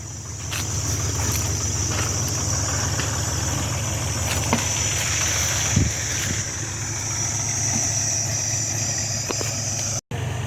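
A John Deere tractor engine idles in a constant low, even hum near a water channel on a country road toward Andiyagala reserve, with a brief cutout near the end and no talk.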